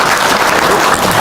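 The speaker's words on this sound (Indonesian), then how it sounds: "tepuk tangan dulu ya" Dense, loud applause from an audience at an Indonesian religious gathering, continuous close clapping with no voices over it.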